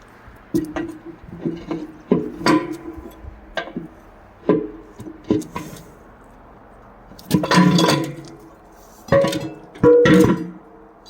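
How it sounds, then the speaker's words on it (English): A pipe wrench works at a water heater anode rod with a series of sharp metallic clanks and scrapes, irregular and close, with louder bursts of effort toward the end. "let's try a pipe wrench. See if a pipe wrench will get it out"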